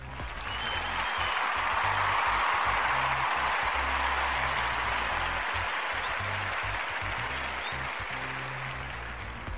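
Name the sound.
audience applause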